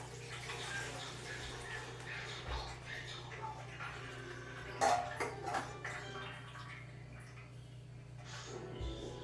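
Water is poured and drained off soaked puffed rice in a kitchen, giving a gentle splashing trickle with a few soft clinks of a vessel. It stays fairly quiet, with a low voice murmuring at times.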